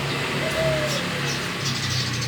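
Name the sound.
albino turtle dove cooing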